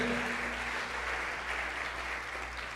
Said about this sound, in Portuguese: aplauda Jesus mais uma vez porque Ele é digno